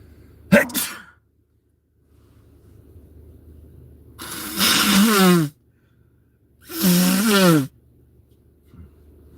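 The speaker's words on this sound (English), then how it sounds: "I need to sneeze" Two loud, close sneezes about two seconds apart, each a sharp burst with a breathy wind-up, following a short earlier catch of breath.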